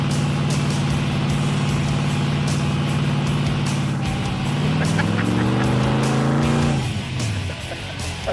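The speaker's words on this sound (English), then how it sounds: "That was our most successful burnout yet in this car." A pro street car doing a burnout, its engine held at high revs in a loud, sustained roar with tire noise, then the pitch sweeps up and drops off sharply near the end.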